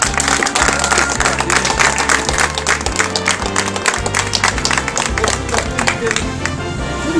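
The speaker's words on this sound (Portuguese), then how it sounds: "vamos dar uma salva de palmas" An audience claps loudly and continuously while music plays underneath, with a steady bass line beneath the dense patter of hands.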